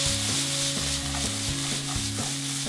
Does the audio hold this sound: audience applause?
no